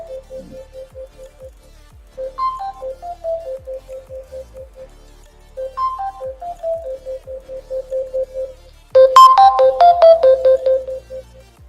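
A KW39 Max smartwatch's find-phone feature sets a Bluetooth-paired phone ringing: a repeating electronic ringtone melody of short tonal phrases, clear and fairly loud, swelling louder and fuller near the end.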